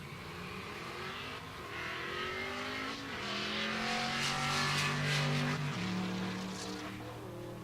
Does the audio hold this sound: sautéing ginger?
no